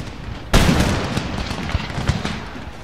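Musket volleys crack out in Empire Total War, beginning with a loud sudden burst followed by a rolling spread of scattered shots and rumbling fire that slowly fades.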